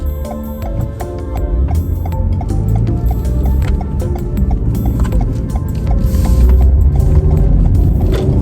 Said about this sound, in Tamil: இந்த டக்குன்னு சவுண்ட் வர்றது இண்டிகேட்டரு.